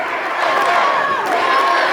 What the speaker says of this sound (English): I hear more Canada than United States chants right now.